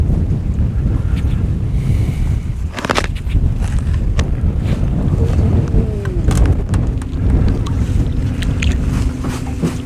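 Strong wind buffets the microphone in loud gusts over water, with faint knocks and a brief thin tone in the background.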